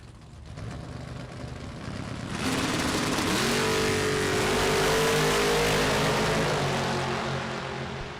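A Roadster and a Camaro drag racing at a Super Pro bracket event, engines building from a low rumble to a loud, sustained roar that swells and holds as the cars run down the track, no voices.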